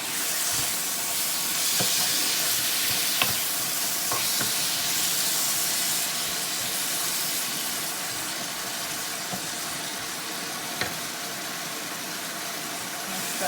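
Tomato paste cooking with vegetables and spices in a pan, a steady close sizzle and hiss throughout with occasional light clicks of stirring.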